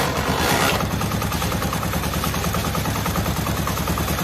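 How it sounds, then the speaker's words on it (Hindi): A Bajaj Pulsar motorcycle engine catches and settles into a steady, loud, rhythmic idle close by, its clattering putter continuing evenly after a brief louder burst at the start. "बाइक स्टार्ट हो गई है।"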